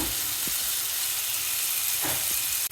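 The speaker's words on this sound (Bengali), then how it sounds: "এখন ঢেকে আমি 5-7 মিনিট মশলা কষিয়ে নিব" Spice masala sizzles steadily in a covered pan while being fried for a fish curry, a constant bright hiss with a couple of soft knocks and a sharp clack at the end.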